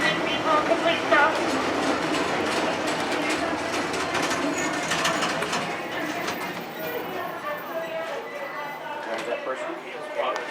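The Lilly Belle car of the Disneyland Railroad train rolls along with a steady rumble and rattling, while people talk over it.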